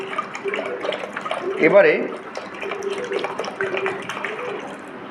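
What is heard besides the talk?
water poured into a container with almond leaves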